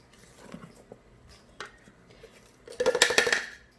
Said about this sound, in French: Je remue un peu